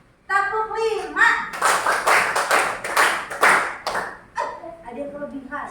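A class claps in unison along to a counted clapping routine, several rhythmic bursts of sharp hand claps mixed with children's voices, and a teacher talking before and after.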